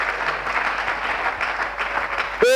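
A church congregation applauding loudly, a dense sustained wash of clapping that runs nearly the whole time before cutting off, with a voice starting up right at the end.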